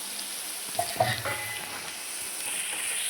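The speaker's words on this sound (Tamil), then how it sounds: "நல்லா வதக்கலாம்" A broad hiss of sautéing in a home kitchen pan, with a couple of brief stirring knocks near the start before the sizzle settles into a steady, moderately close wash.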